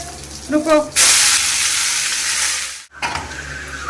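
Leafy greens hit a hot pan and burst into a loud, steady broadband sizzle, cut briefly by a short gap, with faint voice-like tones just before the frying begins.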